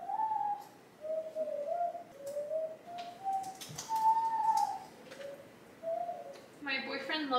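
Someone whistles a wandering tune in short melodic phrases over a steady background hiss, ending with a brief rustling noise.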